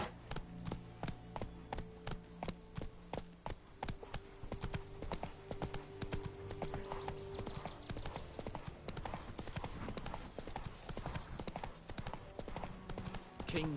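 Roach, Geralt's horse in The Witcher 3 video game, gallops with a steady, rapid clip-clop of hooves close by that runs without a break through the whole stretch, with faint game sounds behind it.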